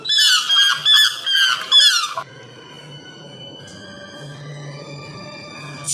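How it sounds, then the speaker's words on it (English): A swan calls in a series of loud, nasal, squealing honks close by for about two seconds, followed by quieter background sound. "Swan."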